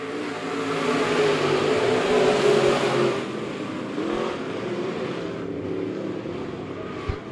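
Late model race cars at Monett Motor Speedway accelerating off a green flag start, a loud layered engine roar building together and then thinning as the pack pulls away into a lower, more distant drone.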